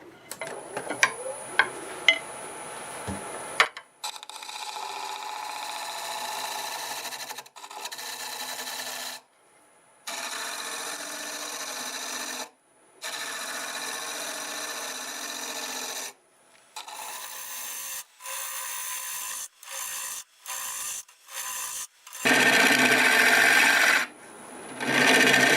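Wood lathe turning a maple burl while a tool scrapes and cuts it, a rough rasping hiss in repeated bursts separated by short silences, close and moderately loud, with sharp ticks at the start.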